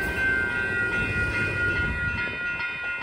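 Sacramento light rail cars rumble through a railroad crossing, wheels droning loudly and evenly while a steady tonal ringing hangs over the passing train, fading slightly near the end.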